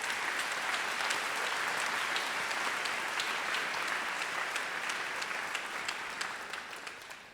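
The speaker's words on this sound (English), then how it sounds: "can we give a round of applause to everyone who's here who supported us this far?" Sustained applause from an audience at a medical school white coat ceremony, a dense steady wash of clapping that holds evenly for several seconds before easing slightly at the end.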